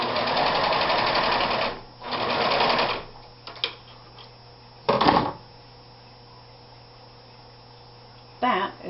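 A serger sewing an inside corner runs in steady bursts of rapid whirring stitching, pausing briefly between runs, followed by a few short taps and one more quick burst near the end.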